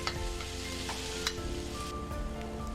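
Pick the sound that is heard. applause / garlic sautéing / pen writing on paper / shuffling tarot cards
garlic sautéing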